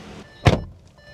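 A single solid thud of a Volkswagen Taigun GT Line car door shutting, close and short, with quiet cabin background before and after.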